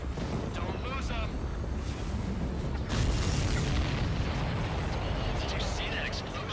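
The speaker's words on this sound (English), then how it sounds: "Did you see that explosion?" An enemy supply ship explodes in the flight-combat game Ace Combat 7, a broad, dense boom that swells midway and holds as a sustained roar, layered over constant jet and battle noise.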